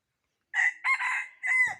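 A young jungle fowl rooster crows close by in three bursts, a short opening note followed by a longer drawn-out call and a final trailing phrase, loud and alone against silence.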